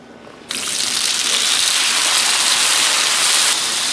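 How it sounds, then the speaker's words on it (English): Potatoes hit hot oil on a Blackstone griddle and burst into a loud, close, continuous hissing sizzle with splattering crackle that starts abruptly and holds steady. "And it will probably splatter a little bit because I tried to dry as much water off"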